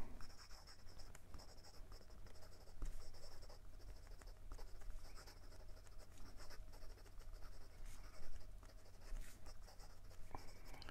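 A Parker fountain pen writes quickly across paper, a faint, steady scratching with rapid rhythmic strokes heard up close and alone.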